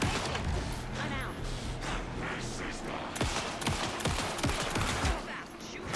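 Sustained rapid gunfire from the video game Alan Wake 2, loud and dense bursts of automatic shots with crashing impacts, continuous throughout.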